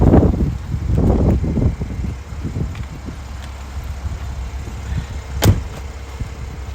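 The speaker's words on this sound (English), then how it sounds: "We'll pop the top up for you now and show you all working." Electric roof mechanism of a 2017 Mercedes SL 400 AMG Line convertible raising its top, with several whirring motor surges and mechanical clunks early on, then a quieter hum and one sharp latch click near the end.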